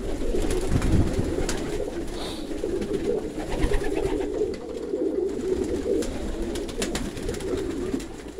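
Pigeons coo steadily and close by, a continuous low burbling that runs through the whole stretch with no talk over it.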